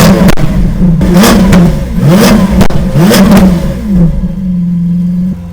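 Lamborghini Aventador SV fitted with a Capristo exhaust revs hard three times in rising, falling sweeps with crackle, then settles into a steady loud idle, close by.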